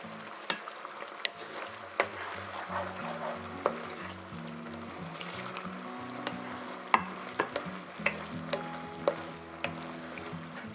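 Fried fish pieces sizzle and get stirred into a sweet and sour sauce in a pan, a soft steady bubbling fry punctuated by light utensil clicks and scrapes, with no talking.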